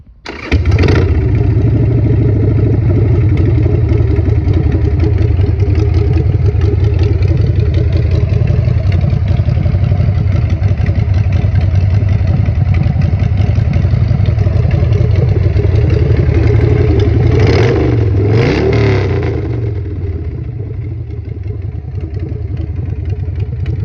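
A 2003 Harley-Davidson Sportster 1200 motorcycle engine starts and idles loudly up close with a steady rumble, briefly revving before settling back to idle.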